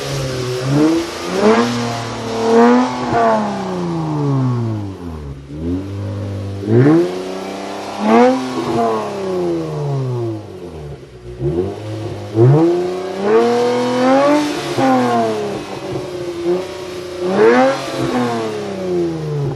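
A 2020 Lexus RC350 fitted with an Invidia exhaust revs repeatedly, each rise in pitch followed by a falling note, several loud close-up revs in a rhythmic series with no talking.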